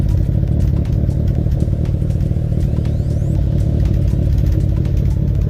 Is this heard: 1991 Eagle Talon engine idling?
yes